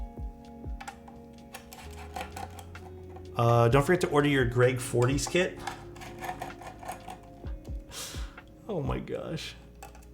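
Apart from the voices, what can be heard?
keyboard clicking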